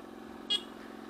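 A motorcycle idling and moving slowly in first gear at low revs, a low steady engine hum with a brief sharper burst partway through.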